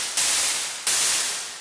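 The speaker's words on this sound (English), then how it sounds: "it doesn't really matter what note you use for your white noise riser because it's just noise" Synthesized white noise riser used as an uplifter in electronic music production: two bright static bursts, each starting abruptly, loud and full-band, then tapering slightly before the next hit.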